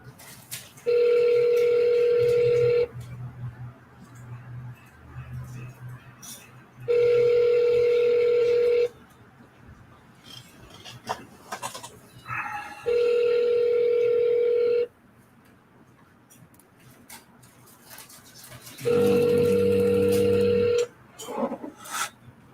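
Phone call being placed, with four long, steady ringback tones repeating at regular intervals, clear and close, separated by quieter gaps holding brief bits of a recorded voice.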